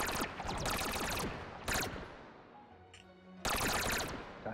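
Bursts of rapid gunfire in the VR shooter Hot Dogs, Horseshoes & Hand Grenades, played on HTC Vive: two long loud automatic volleys, a short burst between them, a quieter lull, then another loud burst, with no one talking.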